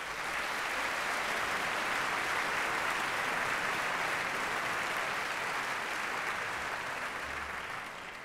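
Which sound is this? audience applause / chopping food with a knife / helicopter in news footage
audience applause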